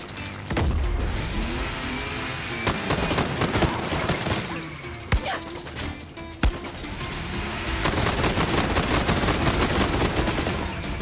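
Bursts of heavy gunfire from the improvised 'senjata sakit jiwa' weapon in Far Cry 6, loud cracking shots with echoing tails, a vehicle engine humming underneath, firing growing denser toward the end.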